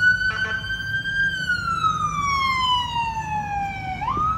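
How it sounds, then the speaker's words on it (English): A loud, close siren wails in one long tone that slowly falls in pitch, then sweeps back up at the end, over a low rumble of traffic. "Like a fucking super siren, man."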